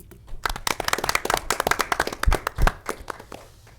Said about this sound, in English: please let's give her just a round of applause